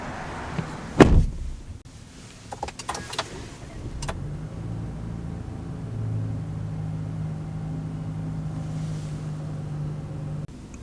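The parking brake of a 2025 Chevy Silverado Custom is worked inside the cab: one sharp click, then a short run of lighter clicks, followed by a low, steady engine hum.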